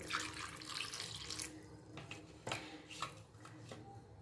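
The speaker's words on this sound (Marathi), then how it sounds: "आता हे टमाटे स्वच्छ धुवून घेऊया डाळ आणि टमाटे स्वच्छ धुवून घ्यायचे" Green tomatoes and pigeon pea dal are washed under a running tap, a dense rush of water gushing for the first second and a half, then softer splashes and handling knocks in a sink.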